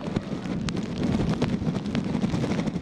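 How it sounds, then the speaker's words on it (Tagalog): Strong typhoon wind buffets the microphone at night in Barangay Casilian, Bacarra, Ilocos Norte, a steady roaring rush with gusty swells and no voices. "Malakas na ang hangin at pabugso-bugso na ang ulan ngayong gabi"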